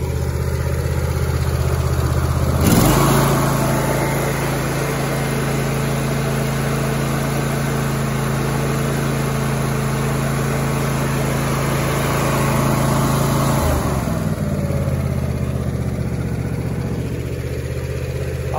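A John Deere Z255 riding mower's small engine runs on a new aftermarket carburetor, a steady, even idle hum lasting throughout, with a slight rise in intensity near the start and again toward the end.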